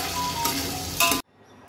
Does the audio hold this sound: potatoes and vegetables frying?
yes